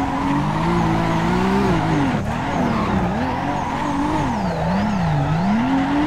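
A Nissan S15 tuned to 460 hp running at Ridge Motorsport Park in Assetto Corsa, engine droning steadily at high revs as pitch climbs and dips with the throttle, while tires squeal throughout.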